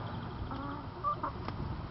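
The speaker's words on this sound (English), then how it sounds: "And that is my rooster" A rooster on a small farm in springtime clucks and calls briefly, close by, over steady outdoor background noise with no one speaking.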